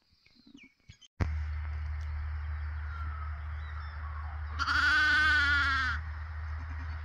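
A single drawn-out sheep bleat rises over a steady low hum of wind or an engine. A few faint clicks come earlier.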